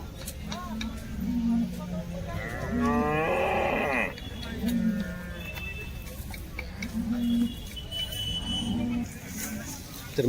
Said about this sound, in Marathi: बारामतीचा गायींचा बाजार.